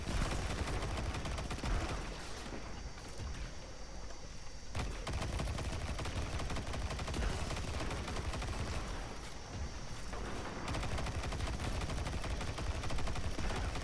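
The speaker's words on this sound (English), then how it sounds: "I am going to snipe you with an auto rifle." Auto rifle fire in the online shooter Destiny 2 rattles in long sustained bursts with brief lulls, loud and dense throughout, with no voices over it.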